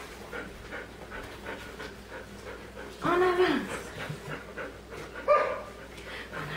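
A dog pants steadily and close by during an outdoor obedience training session, with a trainer giving short spoken commands over the breathing and a couple of brief whimpers.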